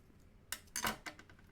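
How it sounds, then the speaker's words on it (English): Scissors snip through a paper card die cut, cutting it in half: a few quick, close, crisp cuts in an otherwise quiet room. "We're just gonna cut this in half."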